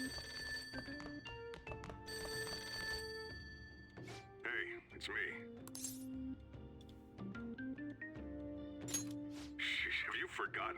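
A phone rings in the video game Persona 5 Royal, bright repeated ringing tones over soft background music and chimes at a low level, with no talk over it.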